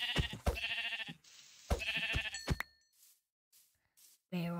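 Sheep in Minecraft bleat in a few loud, close, harmonic calls during the first half, followed by quieter short game sounds and a final bleat near the end.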